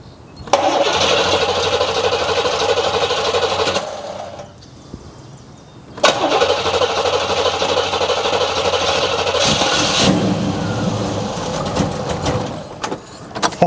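A 450hp Blueprint crate engine cranks and fires, then runs loud and steady, cuts out briefly, restarts and keeps roaring close up.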